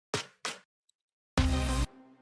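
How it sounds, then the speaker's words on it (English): A programmed hip-hop drum pattern of just kick and snare, blended with synthwave-style elements for a dubstep/glitch hop track: two short punchy hits, a brief pause, then a louder sustained burst, with no talking. "a hip-hop drum, which is just a kick and a snare"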